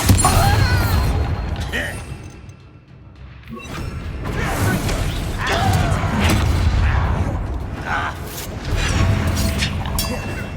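Bombarda spell explosions boom during a Hogwarts Legacy fight, several loud blasts and whooshing bursts that swell and fade, mixed with dense combat noise and brief voices.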